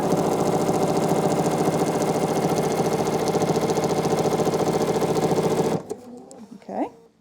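A sewing machine stitching through a quilt with a cuddle fleece back runs loud and close with a steady rapid mechanical chatter, then stops abruptly near the end as a voice speaks.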